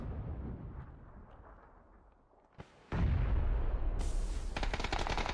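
Gunfire in a PUBG esports championship match: a muffled, quieter stretch with one sharp crack, then a loud, sustained burst of rapid shots and booms that keeps going.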